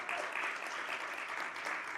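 Dense, steady applause from an audience welcoming a guest to a discussion on parenting through antisemitism, a continuous wash of clapping with no voices over it.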